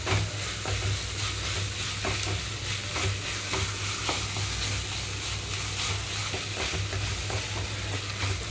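Ginger garlic paste fries in a pan with a steady, close sizzle and hiss running the whole way through, marked by occasional stirring scrapes and no voices.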